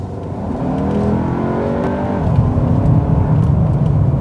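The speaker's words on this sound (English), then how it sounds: "you can immediately feel the throttle response and the engine output becomes much sharper, much stronger" A VW Passat Alltrack in sport mode accelerates, its engine note climbing in a smooth steady rise heard from inside the car, a loud continuous drone with no talk.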